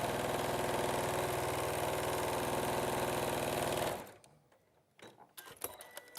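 A sewing machine runs a seam to the end, a loud close continuous mechanical whir that stops abruptly after about four seconds, followed by quiet handling clicks and faint rustles.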